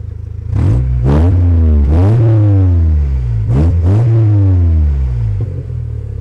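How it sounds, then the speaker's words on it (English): A straight-piped Volkswagen Golf with its muffler deleted gives two pairs of quick blips on the gas, each rev surging sharply and falling back to a loud, raspy idle, recorded up close. "when you just tap the gas a little bit"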